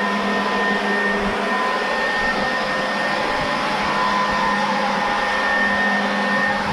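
A blower runs loudly and continuously close by, a steady, dense whooshing roar with a faint whine and no break.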